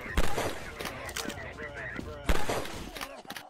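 Gunfire in Half-Life 2, two loud, sharp shots spaced a couple of seconds apart amid clattering game sounds and some talk.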